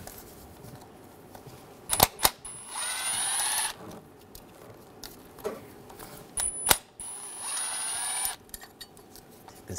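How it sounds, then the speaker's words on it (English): Quiet clicking of a T30 socket ratchet loosening screws on top of a 2006-2009 Mercedes-Benz E350 3.5L V6 engine, heard as a few bursts of ratcheting mixed with sharp taps and clanks from the work. "On top, we're gonna take these screws out,"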